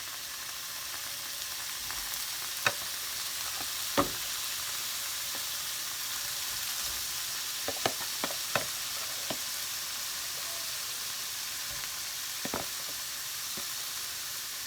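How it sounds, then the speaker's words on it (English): Mussels, prawns, scallops and a seafood mix sizzling in a pan, a steady soft frying hiss punctuated by scattered sharp clicks and utensil taps, with no talking. "Now I'm going to add the seafood, the mussels and prawns and scallops and the seafood mix in the same pan as the fish earlier."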